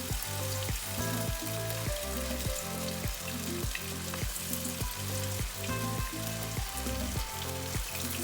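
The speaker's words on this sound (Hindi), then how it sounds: "हमारा ऑयल गरम हो गया है। अब मैं इसमें चिकन डालना स्टार्ट करती हूँ।" Chicken pieces fry in hot oil for Chicken 65, a steady loud sizzle and crackle running throughout with a rhythmic pulsing texture.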